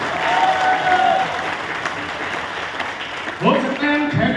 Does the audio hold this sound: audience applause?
yes